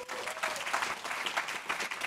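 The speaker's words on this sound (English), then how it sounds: "please give Brendan a round of applause" A seminar audience claps for a speaker named Brendan, giving a short burst of dense, even applause from a crowd that stays loud throughout.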